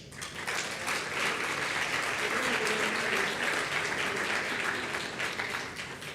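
Sustained applause from an audience at a panel event on Latin American authoritarianism, steady and dense for several seconds without pause.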